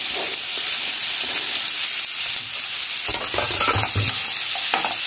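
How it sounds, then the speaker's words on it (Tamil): Garlic, green chilli, ginger and chopped onion crackle loudly in a hot pan, a steady near sizzle joined in the second half by clustered scraping knocks as a utensil stirs the mixture. "இதில் பூண்டு, ஒரு பச்சை மிளகா, கொஞ்சமாக இஞ்சி, இதுக்கடுத்து நம்ம கட் பண்ணி வச்சிருக்கிற வெங்காயம்"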